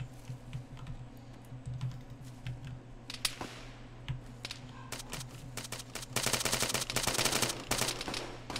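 Automatic and single gunfire in the ArmA 3 military shooter, jungle setting, crackling in rapid bursts that thicken into a dense, loud volley near the end, with a faint steady engine-like hum underneath.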